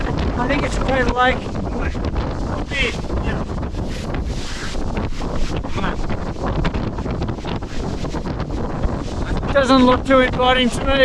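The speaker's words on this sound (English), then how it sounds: "And just blowing a gale." A gale roars and buffets the microphone at the volcanic crater lake on Mount Apo in the Philippines. The loud, constant rushing wind continues under someone talking throughout.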